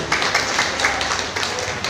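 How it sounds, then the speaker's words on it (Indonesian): Applause from a crowd at an Indonesian community gathering in a café, a short burst of brisk, dense clapping heard at moderate distance. "Tepuk tangan mungkin untuk Kabupaten Batang."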